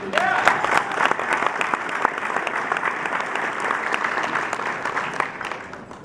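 A crowd at an installation ceremony claps steadily in sustained applause, the sound holding strong before fading slightly toward the end.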